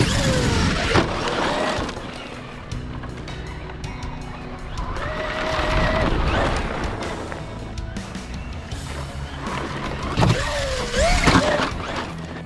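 A Traxxas Raptor-R 4x4 RC truck drives steadily, its electric motor whining and rising and falling in pitch with speed, loud and continuous throughout with tires rolling over the ground.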